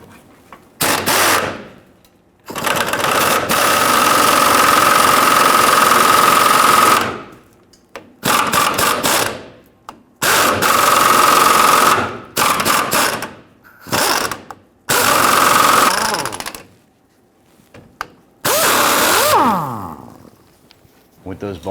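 Ratchet working a fuel tank strap bolt loose underneath a 2007-2021 Toyota Tundra 4.7L V8, loud rapid clicking in several bursts of a few seconds each, separated by short pauses, close up.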